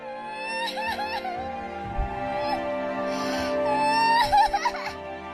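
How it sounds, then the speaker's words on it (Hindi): A baby cries and whimpers in a story scene, a thin wavering wail rising and falling in repeated bursts, loud and close, with no one speaking over it. "एक बच्चे की रोने की आवाज आ रही थी।"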